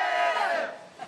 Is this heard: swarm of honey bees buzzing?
no